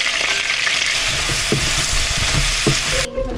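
Ginger and garlic fry in a pan with a steady, loud broadband sizzle and a few faint stirring knocks, cutting off abruptly near the end.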